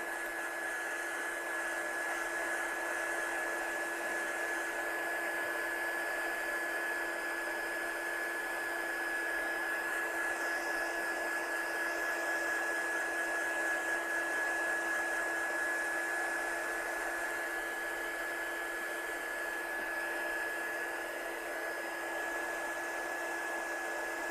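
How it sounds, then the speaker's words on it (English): A heat gun blows steadily for a long stretch while drying an ink-blended handmade card, a loud continuous whine and airy roar with a high sustained tone and no pauses. "So I'm just drying this one off, and I need it to be as dry as I possibly dare go without boring you all to death with my gun."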